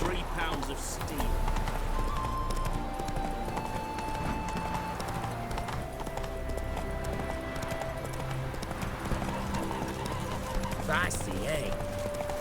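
Roach the horse gallops in The Witcher 3 with steady, rhythmic hoofbeats under music and voices, ending with a neigh.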